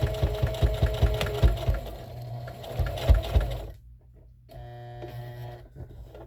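A sewing machine stitches a reusable scrubbing sponge in a rapid, steady mechanical rhythm, pauses briefly, then runs again more lightly.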